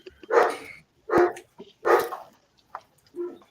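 A dog barks several times in quick bursts, fairly close, with short pauses and a softer yip between barks.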